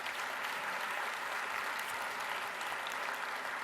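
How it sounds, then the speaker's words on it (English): A roomful of attendees at an education summit opening claps steadily, a soft, even wash of many hands heard from some distance, continuing without a break and without talk. "I just want to give them a round of applause before we start."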